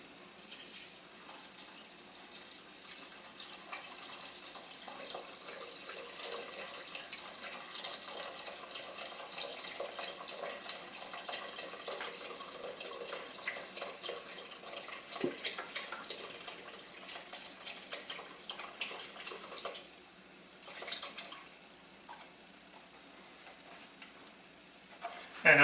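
Chicken stock poured into a soup pot for turkey curry rice soup, a faint continuous liquid pouring and splashing that runs for most of the clip, with quiet clattering near the end.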